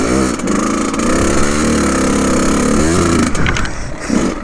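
A motorcycle ridden off-road on dirt, its engine running loud and close throughout as it rises and falls in revs, with no one talking.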